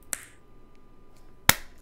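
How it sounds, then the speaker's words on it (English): Two crisp hand-clap sound effects from the Katawa Shoujo visual novel, sharp isolated cracks spaced well over a second apart against near silence. "Shizune claps her hands together very energetically."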